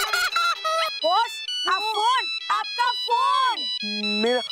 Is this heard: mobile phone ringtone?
yes